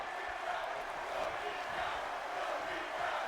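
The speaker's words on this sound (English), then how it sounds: "the live crowd chanting for the awesomeness of both these gentlemen" A live wrestling match crowd keeps up a steady, continuous roar of chanting voices that fills the arena, with no breaks or single standout calls.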